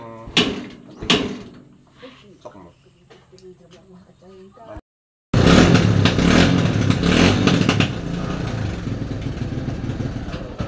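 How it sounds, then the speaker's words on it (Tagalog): Clattering and knocking noises, then after a brief silence a loud motorcycle tricycle engine roars to life during a test run and keeps running steadily, with voices talking underneath. "yung magtitesting po ng tricycle"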